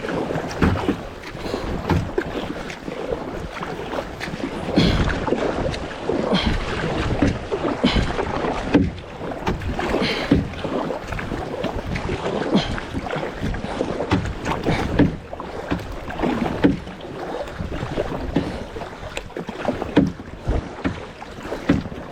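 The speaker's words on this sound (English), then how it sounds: "even paddling at my fastest" Cheap Walmart kayak paddled hard and fast across a lake, with steady splashing strokes and water swishing close by, plus gusts of wind buffeting the microphone throughout.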